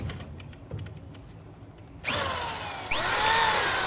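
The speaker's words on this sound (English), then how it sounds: "I'm going to have to drill out the old arm in place, which is going to be a bear" A power drill bores out a metal ball joint arm in place on a vehicle, starting after a quieter stretch and running loud and close, its whine shifting as the bit bites into the metal.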